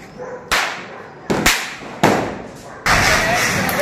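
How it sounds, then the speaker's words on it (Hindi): Big firecrackers burst during Diwali celebrations, four loud, sharp, close bangs spaced about a second apart, each with a decaying rumble, the last blending into continuing crackle. "कितने मोटे मोटे बम फोड़ रहा है।"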